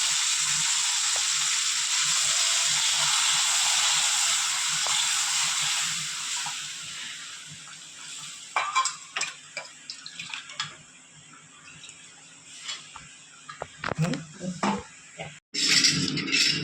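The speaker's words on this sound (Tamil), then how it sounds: "எவ்வளோ தண்ணி தேவையோ அந்த அளவுக்கு கொஞ்சம் தண்ணி நல்லா கொதிக்க வைக்கிறேன்" Steady bubbling hiss of water boiling for eggplant chutney in a pan, fading after several seconds into sporadic pops, clinks and stirring noises.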